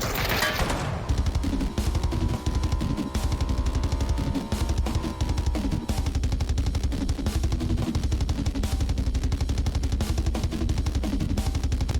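Dense, continuous gunfire from the video game PUBG rattles loudly throughout, a rapid automatic stream of shots over a rumbling low background with a brief louder blast at the start.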